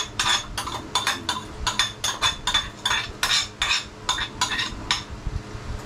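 A utensil stirs sopas, a Filipino soup, in a metal pot, scraping and clinking against the sides in quick repeated strokes, close and fairly loud, with a faint background hiss.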